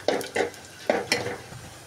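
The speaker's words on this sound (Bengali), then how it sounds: "পেঁয়াজগুলো হালকা ব্রাউন কালার হয়ে আসতে আমি দিয়ে দিলাম জিরা ফোড়ন" Cumin seeds frying in hot oil with lightly browned onions and bay leaves, heard as a few short bursts of sizzling and stirring over about two seconds.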